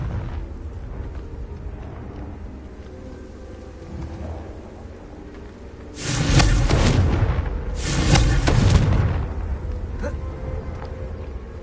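Confringo fire spells explode in Hogwarts Legacy as two loud, rumbling blasts a couple of seconds apart, set over a low, steady ambient hum from the game.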